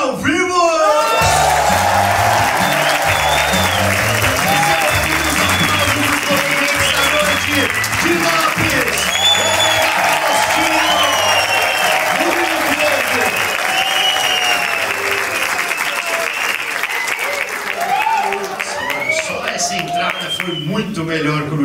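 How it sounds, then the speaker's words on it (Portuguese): Loud live comedy show audience applauds Anitta, a dense wash of clapping mixed with whoops, shouts and cheers, while a voice talks over the crowd throughout before the noise eases near the end. "queria pedir palmas pra Anitta"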